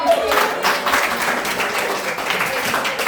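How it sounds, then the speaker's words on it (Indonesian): Classroom of students applauding together during a lesson on the circulatory system, a steady dense patter of clapping that runs throughout with a teacher's voice faintly mixed in. "Tepuk tangan."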